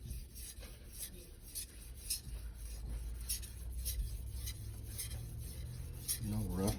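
Steel knife blade rubbed in steady back-and-forth strokes across a wet Naniwa 1000 grit whetstone, a close, soft, continuous scraping rasp with a faint rhythmic pulse and no talk.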